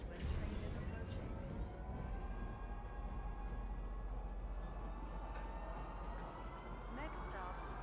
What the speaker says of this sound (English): Step away from the platform edge when train is approaching.